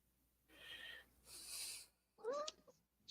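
A pet cat vocalizes several times in a quiet room, with drawn-out meows and a rising chirp near the end, close and moderately loud, with no talk over it.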